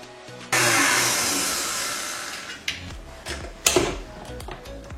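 An electric mixer whisks mascarpone cream in a bowl, starting abruptly with a loud, dense whirring buzz that fades and settles, followed by a few sharp knocks and rattles of the beaters, close by.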